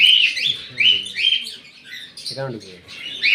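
Close, bright cockatiel chirps and whistles repeat in short bursts as male birds enter breeding boxes, with a voice talking in between.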